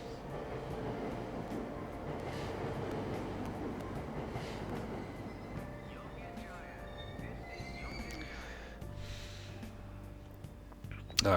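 Train ride in the Persona 5 Royal video game, a steady rumbling carriage drone with rattles and a faint tone, running continuously at moderate level.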